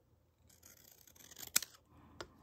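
Scissors cut a paper card in a quiet room: a short run of soft rustling snips, then one crisp clipped cut and a final lighter snip.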